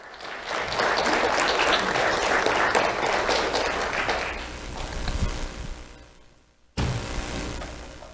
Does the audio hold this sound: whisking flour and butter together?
no